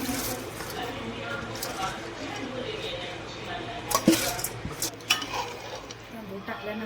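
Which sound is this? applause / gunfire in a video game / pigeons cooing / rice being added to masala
rice being added to masala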